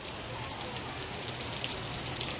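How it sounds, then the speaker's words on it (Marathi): Steady monsoon rain pours down, a dense hiss of drops drumming on surfaces, close and continuous. "पाऊस चालू झाला"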